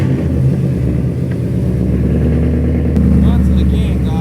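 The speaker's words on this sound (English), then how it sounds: "Time for a fast car to get on the dyno now." A 2018 Chevrolet Camaro SS fitted with a bellmouth intake sits on a dyno, its V8 giving a loud, throbbing low rumble that swells and rises in pitch toward the end, with voices under the engine.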